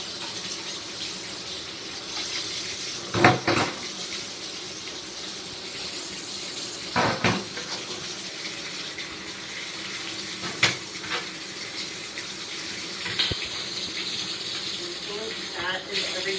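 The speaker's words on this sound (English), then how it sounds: "I'm going to rinse all the parts." Trumpet valves and slides rinsed under a running tap, a steady broadband water hiss with a few brief clatters of metal parts, close and fairly quiet, with no talking.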